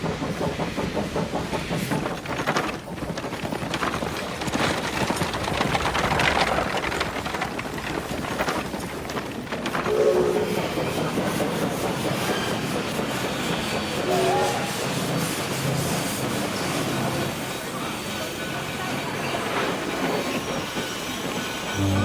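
A train rolls along its rails with rumbling wheels, rhythmic clatter and occasional squealing, a loud sustained passage heard close by, with a voice faintly present at times.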